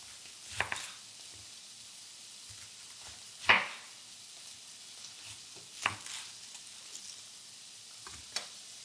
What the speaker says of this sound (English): Now, while the ostrich steak cooks, we're going to want to slice our onion.